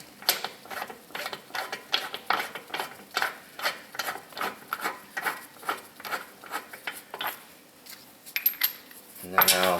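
A socket starts lug nuts on the wheel hub of a Nissan Altima, giving a rapid series of metallic clicks and ratcheting scrapes in short bursts, close by, with no talk.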